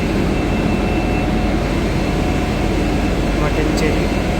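Kochi Water Metro water-jet ferry, modern and clean, gives off a loud, steady engine drone heard from onboard, unbroken for the whole stretch, with faint voices beneath.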